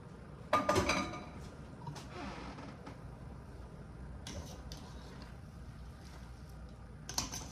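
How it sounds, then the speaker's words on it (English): Carrots are stirred in a pot, and a spoon strikes the metal with a sharp clatter at the start. Soft scraping and occasional light clinks follow against a low kitchen background, with no talking. "Give it a good stir, mix it around"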